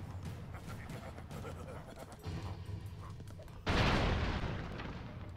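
Explosions from bombs in the video game Broforce: a sudden loud boom bursts out partway through and fades over the next second, following quieter game noise with people talking.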